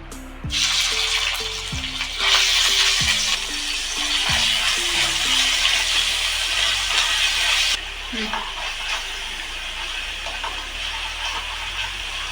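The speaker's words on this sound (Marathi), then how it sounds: "पण ही थोडीशी परतून घेऊया ग्रीन चटणी" Green chutney of ginger and garlic sautés in a pan with fresh curry leaves, giving a steady loud sizzle throughout, while a person talks over it in the first part and a few soft clanks sound.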